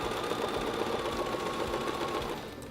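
A sewing machine runs at a steady, even speed while quilting with a ruler, its fast continuous hum and needle chatter close and unbroken, easing slightly at the end.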